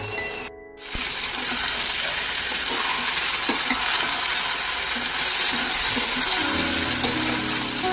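Paneer is fried and stirred in a pan for chilli paneer. A dense, bright sizzle breaks out suddenly after a brief pause and continues loud and steady to the end.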